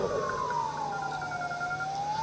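An ambulance siren wails in one long, slow rising and falling tone during an emergency drill at Jessore Airport, heard steadily over a constant background hum.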